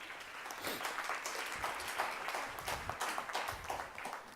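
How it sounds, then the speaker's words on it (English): Faint applause from a small audience at a speech, a thin spread of scattered hand claps lasting several seconds with no voices over it. "Only parents clapping."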